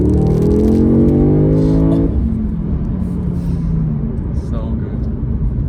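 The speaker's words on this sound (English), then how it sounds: "we'll put the throttle down, I won't make any noises, and we can just listen to the purr of this car." A 2021 Audi S3 saloon accelerates hard at full throttle, the engine climbing through revs loud and close before a gear change drops the pitch and it pulls again, with a low voice underneath.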